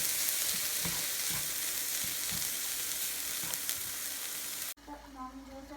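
Food sautés in a hot pan, making a loud, dense, steady sizzle with faint stirring scrapes for several seconds. It cuts off abruptly to quieter room sound as a voice begins.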